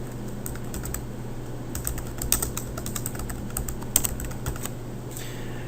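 Fingers type steadily on a computer keyboard while entering data into an Excel spreadsheet, a close, continuous patter of clicky keystrokes with a few slightly louder presses and no talking.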